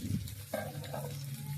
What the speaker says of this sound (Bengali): গোল গোল করে কেটে একটু ভাজা করছি